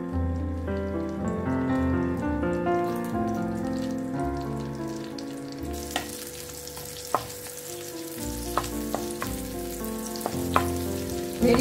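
Cauliflower fries in soybean oil and butter with a soft crackling sizzle and occasional sharp pops, heard under a steady musical backing.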